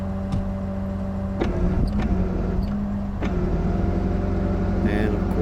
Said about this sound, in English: Start the truck, put it in neutral.